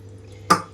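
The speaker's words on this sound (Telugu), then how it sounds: "ఒక కప్ వరకు వాటర్ కూడా వేసేస్తున్నాను" Water poured into a ridge gourd masala curry with garam masala and coriander powder, a single brief splash that sits close and fairly loud over a low steady hum.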